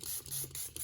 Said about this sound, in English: And all I'm going to do is spray with some water. I just use the Distress sprayer.